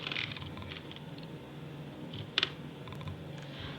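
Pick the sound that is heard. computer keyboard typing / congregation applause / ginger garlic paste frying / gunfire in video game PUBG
computer keyboard typing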